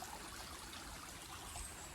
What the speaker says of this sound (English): Sitting by the Shibden Brook, if you can see that.